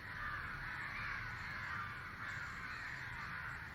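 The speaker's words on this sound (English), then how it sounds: "and the cry of those crows," Crows caw continuously in the evening in Madras (Chennai), a dense, fairly loud chorus of overlapping calls with no talk.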